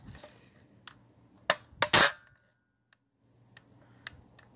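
Airsoft gun shots at a target: a few sharp snapping cracks, with a loud cluster in the middle and scattered lighter ticks and impacts before and after, over a quiet low hum.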